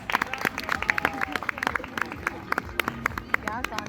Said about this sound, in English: Come on everybody, greet them with a big round of applause.